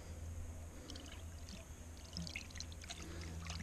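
Fresh water poured and trickling over a blue gold prospecting mat to wash it out at Creswick, a faint continuous pour with scattered splashes and drips over a low steady hum, with no voices.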